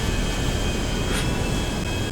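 Airplane engine in a video game, a loud, steady droning roar with a faint whine and a brief burst in the middle, heard alone without talk.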